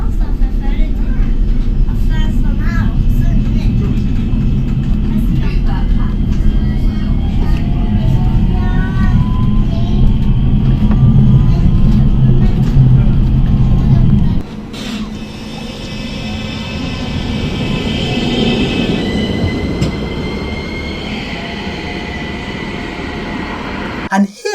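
Stockholm tram rolling along street track, a loud continuous low rumble with passing traffic noise for the first half, then quieter rolling with a higher whine and squealing tones.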